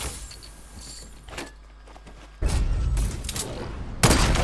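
Gunshots ring out in a Fortnite Battle Royale match, starting with a couple of sharp cracks over quieter ambience. A loud burst follows partway through, then another abrupt shot near the end.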